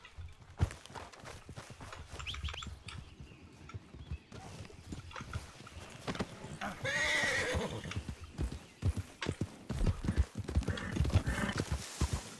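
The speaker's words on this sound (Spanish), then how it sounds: "Escuché un caballo." In the RedM western video game, a horse whinnies loudly several times over a steady clatter of hooves on the ground, with no talking.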